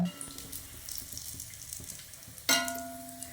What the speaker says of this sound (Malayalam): അപ്പം നമ്മൾ ആ കാടമുട്ടക്കിളിക്കൂടൊക്കെ ഫ്രൈ ചെയ്ത് കഴിയാനായിട്ടുണ്ട് കേട്ടോ